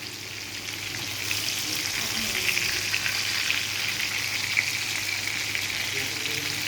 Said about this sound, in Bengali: এইভাবে আমি বলগুলো ভেজে নিলাম।